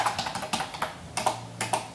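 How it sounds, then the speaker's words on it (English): Steady rapid clacking of fingers typing on a computer keyboard, close and clear, with irregular bursts of keystrokes and no talking. "So you just start typing away"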